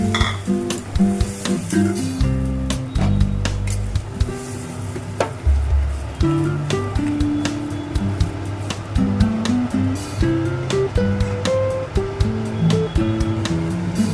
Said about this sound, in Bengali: আমি আদা টমেটো আর কাঁচা লঙ্কা বাটাটা তেলের মধ্যে দিয়ে দিলাম